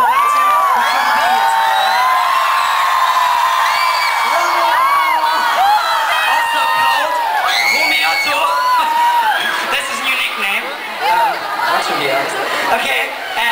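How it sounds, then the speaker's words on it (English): A concert audience at a show in Tochka roars with loud, close cheering: high whoops, shrieks and yells pile over dense crowd chatter throughout, with shouted voices mixed in. "Give him an applause"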